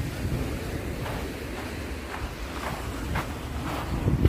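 Steady broadband wash of Mediterranean sea surf on a beach in Alanya, Turkey, soft swells rising and falling, plus wind rumble on the microphone; no voices.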